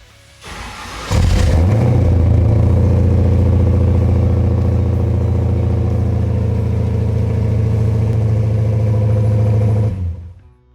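A Hellephant-powered 1970 Dodge Charger engine catches and settles into a loud, steady, rumbling idle that holds close and alone for about nine seconds before cutting off.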